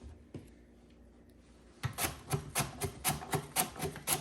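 A large red onion being run through a guarded mandoline slicer: after a quiet start, a quick series of crisp, close slicing strokes in a steady rhythm.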